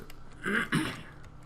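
A man clears his throat twice in quick succession, two short raspy bursts close to the microphone with no speech.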